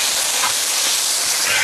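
Pickled cabbage and chopped pig lung sizzle in a hot wok, a steady broadband hiss of frying that holds loud and even throughout with no talking.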